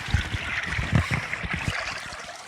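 A stream flows and trickles close by at a wild campsite in Scotland, with an uneven, gurgling wash of water that holds steady throughout.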